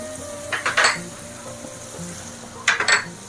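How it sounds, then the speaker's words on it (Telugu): Onions with salt and turmeric fry in a pan while a metal spatula scrapes and clinks against it in two short bursts over a steady sizzle. "వేసుకొని కలుపుతూ మంచి ఫ్రై చేసుకోవాలి. కొంచెం ఎర్రగా అవ్వాలి ఉల్లిగడ్డ అంతా."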